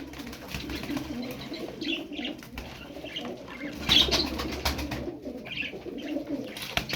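Soft pigeon cooing repeats in the background, with faint chirps and a brief flutter of wings partway through.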